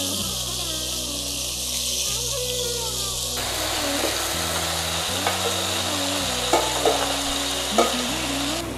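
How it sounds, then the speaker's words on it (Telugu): Soya chunks lightly frying in hot Freedom oil in a pan, a steady close sizzle with faint stirring scrapes, continuous and even with a few small pops near the end. "ఇప్పుడు మనం ఆయిల్ వేడెక్కాక ఇప్పుడు ఈ సోయా చంక్స్ ని మనం లైట్ గా ఫ్రై చేసుకోవాలి."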